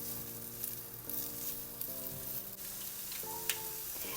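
Diced medium potatoes fry in a pan with a steady low sizzle, faint and even throughout while music with sustained tones plays over it.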